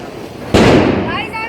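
A Diwali sparkler and firecrackers go off: a sudden loud burst gives way to continuous crackling and fizzing close by, with people talking over it.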